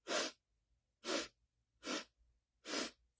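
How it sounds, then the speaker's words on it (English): Segmented inhale through the nose during a breathwork exercise: four short, evenly spaced sniffs, close and distinct, each separated by silence, with no talking. "I'm going to do the nose. So breathing in for 4 equal parts."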